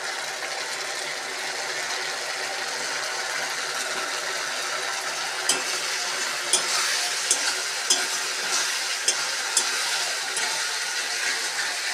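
Ginger garlic paste and spices are stirred in a hot pan for an egg curry: a continuous frying sizzle runs throughout, with a series of light, regular scraping ticks from the spoon partway through and no talking.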